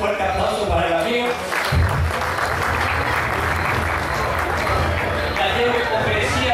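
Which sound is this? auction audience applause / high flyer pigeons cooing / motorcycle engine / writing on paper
auction audience applause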